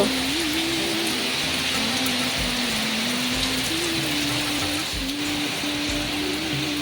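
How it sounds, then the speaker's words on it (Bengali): Heavy rain pours steadily from a white sky, a dense, loud, continuous hiss of drops on surfaces, with a faint tonal hum running underneath and no talking. "দেখো কত বৃষ্টি গো"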